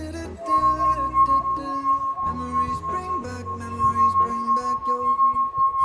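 A drinking glass filled halfway with water is struck repeatedly, giving a clear, sustained ringing tone with a steady rhythm of taps, fairly close, with some background hum and no talk.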